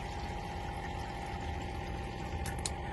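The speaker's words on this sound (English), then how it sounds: "you will be able to hear the pump on the inside of the caravan" An internal water pump inside a 2011 Alpine caravan hums steadily as water flows, a continuous close drone with a few brief hissing bursts near the end.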